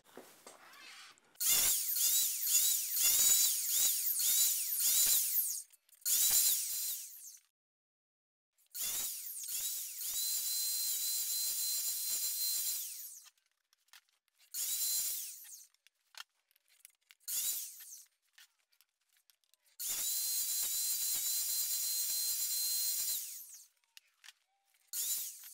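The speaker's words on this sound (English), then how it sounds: "I'm just going to use the compound miter saw basically to cut down" A compound miter saw cutting shelf grooves into wood in a garage, heard as a series of sharp whining bursts of varying length separated by silences, each cut loud and close.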